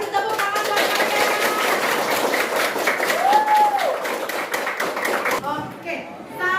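Children in a classroom applaud together in a dense, steady stretch of clapping with scattered voices mixed in, before the clapping thins out near the end.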